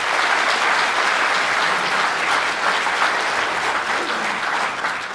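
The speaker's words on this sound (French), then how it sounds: "Donc j'aimerais bien qu'on les applaudisse." An audience at a mayor's New Year address applauds volunteers, dense sustained clapping from a large crowd, steady and loud for the whole stretch.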